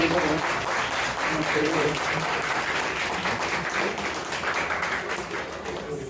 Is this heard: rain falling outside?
no